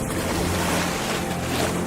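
Sea waves washing and surging under blowing wind, a continuous, even roar of surf at moderate level with no voices.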